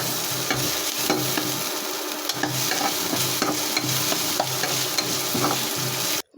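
Onions frying in hot oil with chili flakes and ginger-garlic paste for egg chops, a continuous close sizzle with repeated spatula stirs and scrapes, ending abruptly, with no talking.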